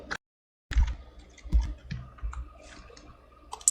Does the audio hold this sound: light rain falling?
no